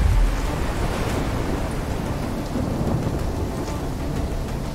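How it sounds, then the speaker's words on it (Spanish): Storm-tossed ocean waves in Call of Duty: Black Ops 3, a steady, heavy roar of surging water and wind-driven spray with a thunder-like rumble underneath, loud and unbroken throughout. "Las olas nos van a dar problemas."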